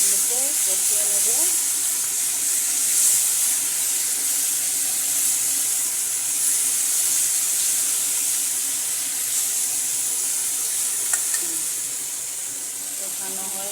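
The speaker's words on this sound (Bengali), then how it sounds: "মশলাগুলোকে কষিয়ে নেব।" Spices sauté for paneer tikka curry, a constant soft hiss and sizzle that stays even throughout, with faint clinks near the end.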